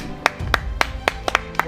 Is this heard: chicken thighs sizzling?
no